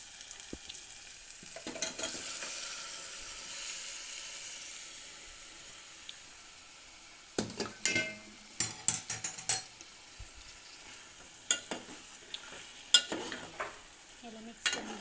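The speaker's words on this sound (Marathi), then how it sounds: "याला मिक्स करून घ्या" Jackfruit being stirred into cooked masala in a pan of released oil, a soft sizzle under scraping spoon strokes; quiet at first, then a run of sharp clinks and scrapes from about halfway on. No one speaks.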